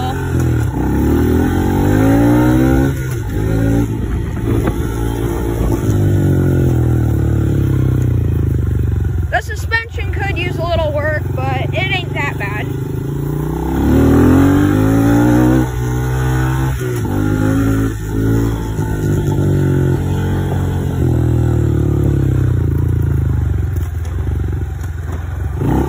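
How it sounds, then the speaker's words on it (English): A motorcycle with a manual clutch rides along with its engine droning loudly throughout, the pitch rising and falling as it accelerates and shifts, plus a brief rattling clatter midway, with a person talking over it. "now I am on my bike and we are going to see what has the better riding capability"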